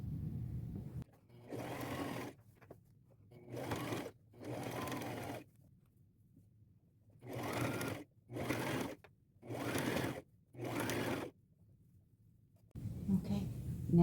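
A sewing machine stitches lace trim onto a blouse in seven or eight short, evenly spaced bursts, close and clear, with quiet pauses between them and faint room noise.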